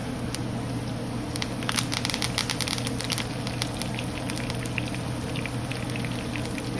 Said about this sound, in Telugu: దీనికి వెల్లుల్లిపాయలు, ఇవి కూడా బాగా ఫ్రై అవ్వాలి